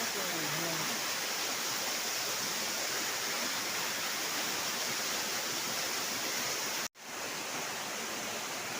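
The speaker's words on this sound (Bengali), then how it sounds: "এই দেখো ঝর্ণা" Rishyamukh waterfall pours steadily as a dense, broadband roar of falling water, close and continuous, with a brief dropout near the end before the rush resumes.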